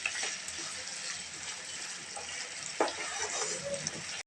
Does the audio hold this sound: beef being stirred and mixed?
yes